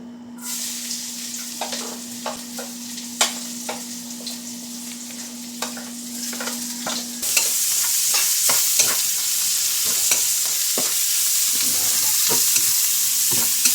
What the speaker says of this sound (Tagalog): Dito na rin tayo magigisa, guys. Unahin natin ang bawang at sibuyas.